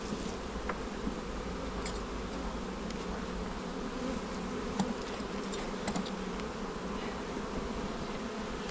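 Honey bees buzz in a dense, continuous drone around an opened beehive during a beekeeping visit, close and steady throughout, with faint scattered clicks and knocks from handling the hive.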